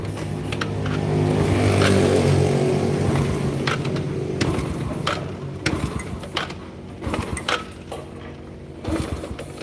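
A Yamaha Vega R motorcycle with a power problem sputters and revs unevenly while being kick-started, a rough close engine with irregular bursts and mechanical clatter throughout.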